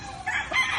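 A single short crow from a large WPC rooster, close and clear, rising in two quick bursts with no talk.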